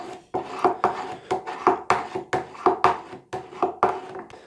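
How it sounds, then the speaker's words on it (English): A steel burnisher rubbed along the edge of a card scraper, repeated rasping strokes in a steady rhythm of about ten passes, each a short scraping sweep, close and clear with no talking. "flattening that burr down and just drawing it a little bit further out again"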